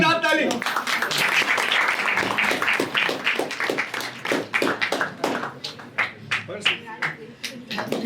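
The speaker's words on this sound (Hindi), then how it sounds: "नवीन के लिए जोरदार ताली।" A crowd at a certificate ceremony for students claps steadily for a boy, with dense, lively clapping through the whole stretch and voices mixed in underneath.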